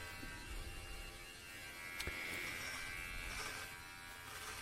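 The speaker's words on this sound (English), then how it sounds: "As you can see, it's trimming through the hair pretty easily." Meridian electric trimmer cutting through hair, a steady low electric buzz with a steady hum throughout, close and fairly quiet, with a brief click near the middle.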